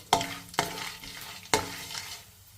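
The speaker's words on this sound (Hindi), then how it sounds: "ये बाकी के भी गोंद मैं भून रही हूँ।" Edible gum (gond) roasting in a pan for traditional winter panjiri, with three sharp stirring scrapes against the pan over a soft continuous sizzle, close up, no voices.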